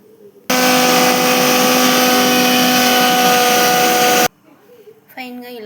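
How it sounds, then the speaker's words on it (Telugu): A kitchen mixer grinder whirs loudly while grinding chilli powder, salt and urad dal, a steady high-pitched motor whine that starts suddenly, runs about four seconds and cuts off, followed by faint talk. "మినపగుళ్ళు వేసేసుకొని మిక్సీ పట్టేసుకున్నాం"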